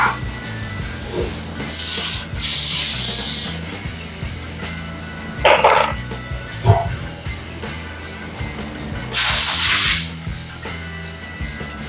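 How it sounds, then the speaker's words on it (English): An awl scribes along the flat edge of a Sterling 10.5 or Dana 60 axle cover, giving loud, close scraping strokes in several bursts separated by quieter shop noise. "Put the screws in, we get our awl and scribe it."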